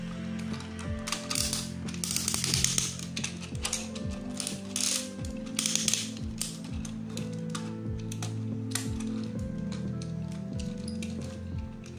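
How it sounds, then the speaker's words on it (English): Ratcheting gear clicks from a Transformers Universe Ultra Class Onslaught toy being transformed, a dense run of sharp plastic clicks and pawl snaps repeating steadily at close range with no talking. "to make the gear click with the button to make the sound effect"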